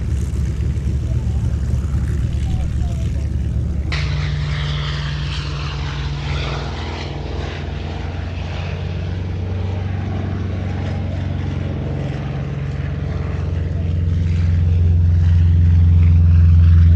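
Several Yakovlev propeller aircraft fly past in line-astern formation at an air show, their engines droning steadily and swelling louder toward the end, with a commentator speaking over them on the public address.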